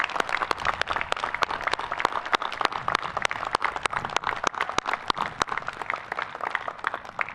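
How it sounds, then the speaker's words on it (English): An audience applauds at a Coast Guard Academy graduation ceremony, producing sustained, moderately loud clapping with distinct individual claps standing out over the crowd throughout. "Please join me in a round of applause."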